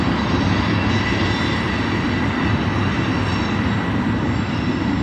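A short local freight train rumbles steadily along the rails, a continuous loud roar of wheels and rolling stock with no pauses.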